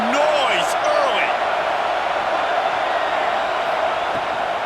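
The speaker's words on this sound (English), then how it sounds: "This crowd bringing the energy and noise early" Loud, steady stadium crowd roar at a Washed League football game, a dense wash of cheering and chatter that never lets up, with a few brief whistles and calls rising above it.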